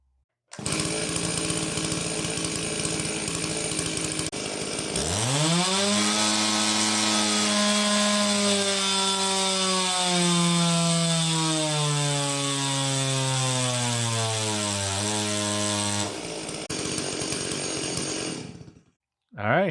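A ported Stihl 036 chainsaw with a muffler mod idles, then revs up and holds a loud, steady, buzzing high-RPM scream for about ten seconds before cutting back down, close up.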